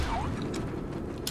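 A weapon reloads in the Black Mesa video game with a quick mechanical ratcheting clack over a steady background rumble, ending in a brief sharp click.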